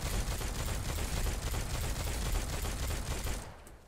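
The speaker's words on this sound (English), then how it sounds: "Yeah, you got the mortar going." Mortar weapon firing in Gunfire Reborn, a dense continuous barrage of loud rapid blasts and explosions that cuts off sharply near the end.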